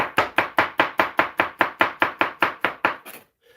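A kitchen knife chops garlic on a cutting board in a home kitchen while Irish stew is being made: about fourteen sharp, evenly spaced chops in a fast, steady rhythm, close and clear with no talk, ending in a quick scrape.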